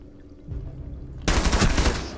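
Gunfire in the tactical shooter Rainbow Six Siege: quiet footsteps and movement, then a sudden loud burst of rapid automatic shots that fills the rest of the moment.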